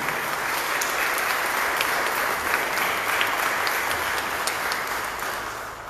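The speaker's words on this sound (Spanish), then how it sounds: "Vamos a darle un fuerte aplauso a nuestros estudiantes." A large crowd of families and guests applauds eighth-grade graduates at a school ceremony, a loud, even wash of clapping that holds steady and then eases slightly near the end.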